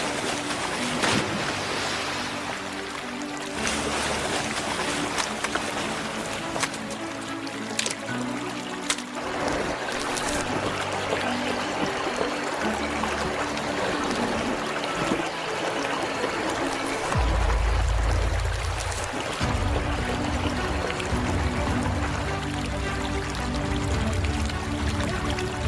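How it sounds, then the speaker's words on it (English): Brown bear splashing in river water while hunting salmon on Kamchatka, loud churning and pouring water with repeated sharp splashes and surges across the whole stretch, close and continuous. "The mother bear gently splashed in the water."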